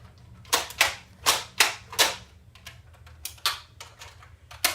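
Nerf blaster shots fired one after another, a run of about ten sharp, close pops in an uneven rhythm with no talking.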